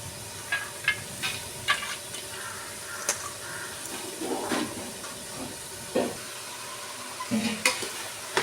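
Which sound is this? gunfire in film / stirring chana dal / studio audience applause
stirring chana dal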